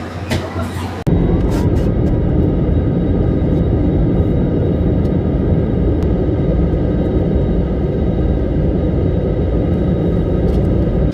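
A steady, loud engine rumble fills the cabin of a passenger airplane, a constant low roar that continues without a break after a brief quieter moment at the start.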